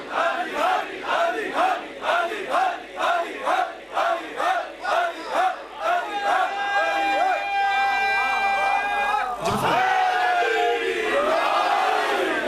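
A large crowd at a Shia religious majlis chants loudly together in rhythmic unison, bursts repeating steadily, then shifts into a sustained, drawn-out collective recitation.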